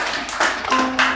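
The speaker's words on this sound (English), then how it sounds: "A big round of applause for yourselves." A crowd applauds at a Nigerian Lebanese fashion show, a short, dense round of clapping with a few louder bursts.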